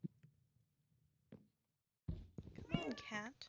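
A pet cat meows close by in a short, rising and falling call, with a few faint knocks before it in an otherwise quiet room.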